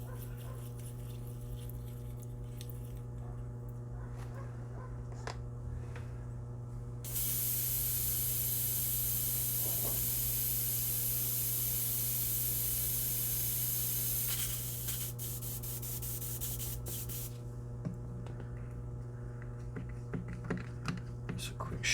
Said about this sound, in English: I'll go back in with the pale blue a little bit and just spray it at a really oblique angle to hit just the tops of the letters